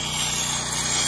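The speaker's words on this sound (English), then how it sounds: "we're just putting the finishing touches on the sawing" A concrete saw cuts control joints into a freshly poured concrete slab, giving a steady, loud, grinding roar that holds evenly without pause.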